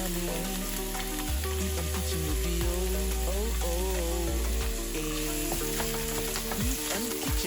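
Chopped onion with ginger and garlic frying in a pan, a steady loud sizzle with stirring scrapes, backed by strong low tones that may be music.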